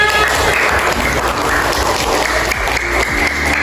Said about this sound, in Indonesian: terima kasih tepuk tangan